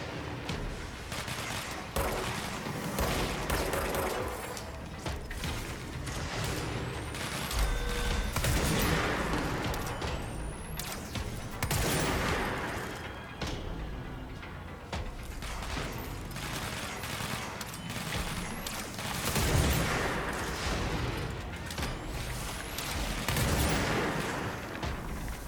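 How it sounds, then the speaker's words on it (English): Dense, continuous gunfire in the video game Control, loud overlapping bursts and shots with booms running throughout. "I hear shooting."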